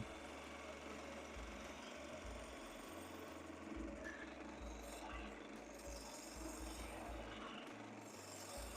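A skew chisel slices along a spinning piece of wood on a lathe, throwing shavings, with a steady rasping hiss over the low hum of the machine and no talk.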